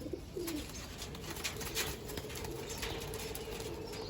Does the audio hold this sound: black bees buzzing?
no